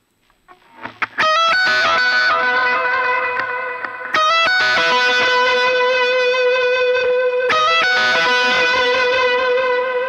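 An electric guitar plays sustained, effects-drenched notes with shimmering distortion, struck three times and left ringing loudly with no talk.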